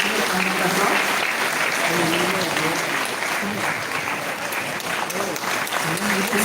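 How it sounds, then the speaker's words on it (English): At an AIDS control awareness event with a minister, a crowd applauds in a continuous, loud wash of clapping, with a voice talking over it in the background. "Please make it a round of applause."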